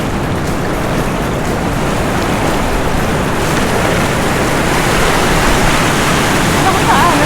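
Heavy ocean surf at Karon Beach in Phuket, Thailand produces a loud, continuous broadband roar of crashing waves up close, with faint voices mixed in.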